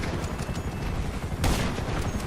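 Gunfire from a video game, with a dense rattle of shots throughout and a louder burst in the middle of the short stretch.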